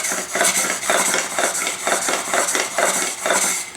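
A hand plane blade is pushed back and forth on a 1,000 grit sharpening stone, giving a steady run of loud, rhythmic gritty scrapes, about eight strokes close up, with no voices.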